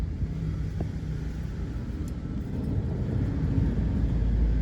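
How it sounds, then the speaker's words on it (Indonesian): Loud, steady low rumble from a worn wheel bearing on a Suzuki APV, heard from inside the car while driving, a continuous deep droning roar with road noise that grows slightly louder over a few seconds. "suara gemuruh cukup kencang. Itu disebabkan dari laker rodanya yang sudah mulai oblak"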